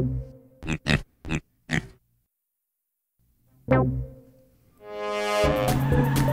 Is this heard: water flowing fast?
no